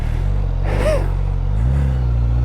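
Motorcycle engine of a 2024 Suzuki GSX-S1000 on a test ride at night, a steady close low rumble with a brief rise in pitch partway through, wind noise over it, no talking.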